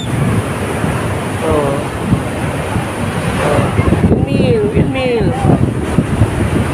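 Rough wind and rolling surf roar across the recording at the Kapurpurawan Rock Formation in Burgos, Ilocos Norte, with voices calling out over the blustery noise.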